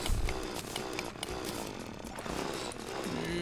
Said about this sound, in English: Let's get out our drill.